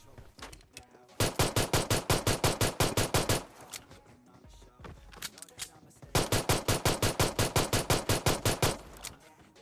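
Two long bursts of rapid pistol fire in PUBG Mobile, each a steady string of loud shots lasting about two seconds, separated by a quieter stretch.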